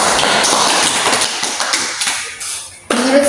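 A junior high science class claps for a classmate, a dense patter of many hands that thins out over about three seconds before a voice starts.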